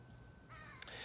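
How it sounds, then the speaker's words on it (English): Crows caw in an outdoor garden, a short call rising over faint background ambience partway through, with a brief sharp click near the end. "You might be able to hear the birds in the background"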